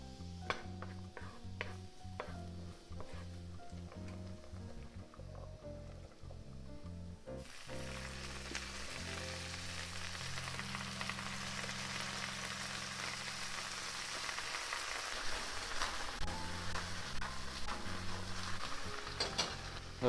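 Garlic sizzles in hot olive oil in a pan, a steady crackling hiss that grows denser and brighter partway through, with stirring and a low tonal hum underneath; no talking.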